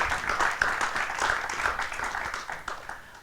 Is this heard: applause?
yes